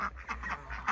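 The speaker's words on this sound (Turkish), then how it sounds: "Şu pompon ördekler arkadaşlar, şu kafaya bakın şunları." Crested pompon ducks on a farm quack close by in a quick, rhythmic run of about five nasal calls.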